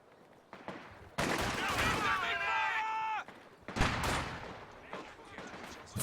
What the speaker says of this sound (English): Infiltration grenades going off here